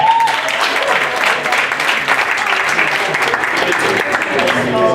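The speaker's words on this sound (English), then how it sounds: "Can we get another round of applause for Chris?" Audience applause for Chris at an evening keynote event, a dense, steady clapping that fills the room at close range and continues loudly without a break.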